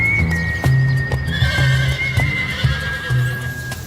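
Thoroughbred horses at the Keeneland bloodstock auction grounds in Kentucky, with hooves clip-clopping in an uneven rhythm on a hard surface and a whinny rising above, close and clear with no talk.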